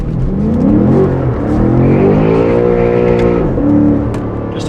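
A BMW F90 M5 with a Valvetronic Designs exhaust, valves open, revs hard and close by from inside the cabin, its engine note climbing and falling in smooth sweeps with a deep, throaty roar and crackles between pulls.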